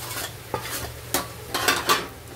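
A spoon scrapes and stirs through sizzling spices and fried taro in a pan, with four or five distinct strokes over a soft, continuous frying hiss.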